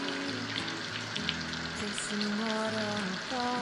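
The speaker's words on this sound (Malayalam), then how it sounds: "എണ്ണ നന്നായി ചൂടായി വന്നപ്പോൾ നമ്മൾ മാരിനേറ്റ് ചെയ്ത് വെച്ചിരുന്ന പ്രോൺസ് എല്ലാം ഇതിലേക്ക് ഇട്ട് കൊടുത്തിട്ടുണ്ട്" Marinated prawns fry in hot oil with curry leaves, giving a continuous close sizzle and crackle beneath a steady bed of tonal background music.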